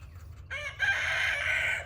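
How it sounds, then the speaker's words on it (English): A rooster crows loudly and close by, preceded by a short hen cluck, over quiet background. "Will you be quiet? Dang chickens."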